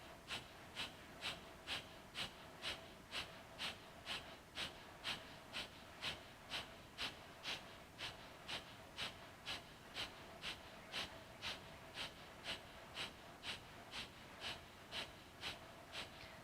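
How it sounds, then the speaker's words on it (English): Breath of fire in a kundalini yoga class, quick rhythmic nasal exhalations repeating evenly about twice a second, faint and close, with no talking over them. "Lift the legs and begin with breath of fire"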